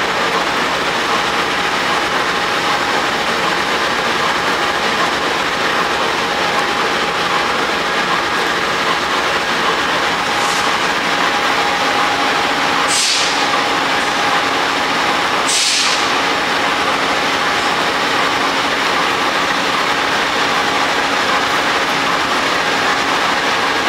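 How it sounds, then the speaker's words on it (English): An Acela Express train arriving at a station in DC produces a loud, continuous rolling rumble, with a steady tone and two sharp hissing bursts partway through. "Another XL Express is arriving, ending their trip at DC."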